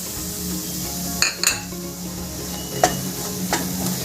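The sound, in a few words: roasting gram flour in hot ghee, stirring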